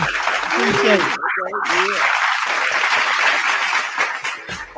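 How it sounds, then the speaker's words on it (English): A crowd claps steadily and loudly for the whole stretch while a voice talks and calls out over the applause. "can we get a hand clap"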